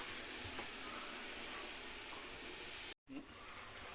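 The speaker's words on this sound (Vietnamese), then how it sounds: "Vậy đã sôi rồi mọi người." Water boils in a covered steamer pot holding a bowl of lemon basil herbal remedy, giving a steady, even hiss with no talk, broken only by a brief moment of silence.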